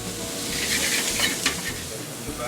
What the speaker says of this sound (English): Portobello mushrooms start the medley of flavors as the chef tosses them in the skillet.